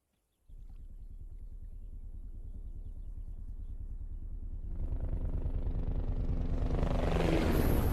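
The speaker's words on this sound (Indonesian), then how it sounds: "menanti helikopter yang sedang mendekat" A steady helicopter engine drone starts abruptly and grows louder, with rising rotor-like rumble and hiss building toward the end as the helicopter nears a poolside.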